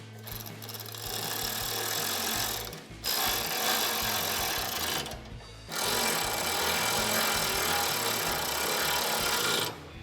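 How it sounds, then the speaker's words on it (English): A power tool tightens bolts on a front bumper for a 2019-2021 Chevrolet Silverado 1500, sounding as a loud buzzing whir in three long bursts. There are brief pauses between the bursts. No one speaks. "take your 4mm Allen socket and 10mm wrench to tighten that down"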